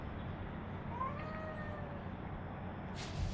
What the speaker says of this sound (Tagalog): Dami palang pusa rito